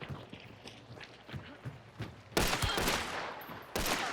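Gunfire in Hunt: Showdown: several distant, muffled shots crack across a noisy game scene, followed by two louder, closer bangs near the end, with no talking.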